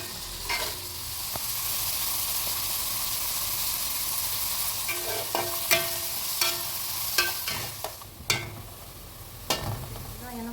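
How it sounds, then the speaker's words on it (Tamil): Onions deep frying in oil, a sustained sizzle and hiss marked by repeated sharp scrapes and clanks of a utensil stirring, growing busier toward the end with no speech. "ஆனியனை நல்லா டீப் ஃப்ரை பண்ணணும்."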